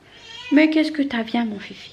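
A house cat meows close by, a drawn-out wavering cry followed by a few shorter calls, while someone speaks French over it.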